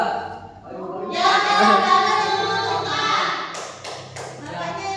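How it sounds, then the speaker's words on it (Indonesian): Classroom of students performing the Indonesian scout rhythmic clap, tepuk pramuka, with patterned claps and taps mixed with children's chanting voices, loud and close. "mari kita lebih baik tepuk pramuka terlebih dahulu ya, biar semangat"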